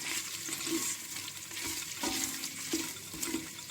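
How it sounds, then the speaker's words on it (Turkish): Tomato paste stirred and sautéed in a pan while making a dried bean soup, a soft continuous sizzle with scraping stirs, close and fairly quiet, no talking. "bir yemek kaşığı kadar da domates salçası bıraktım. Evet biraz da böyle kavrayayım."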